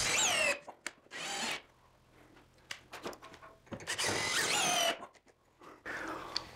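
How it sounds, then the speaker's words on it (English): A power driver sinks screws into wooden mounting boards: several short, loud bursts of whining motor and ratcheting, separated by quieter gaps of handling and low background noise. "before I finish driving the remaining screws from the track"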